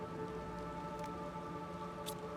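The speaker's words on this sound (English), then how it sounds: "but it is raining" Steady rain falls in the survival game Planet Crafter, a soft continuous hiss of drops on the ground with a faint low rumble underneath, quiet and even throughout.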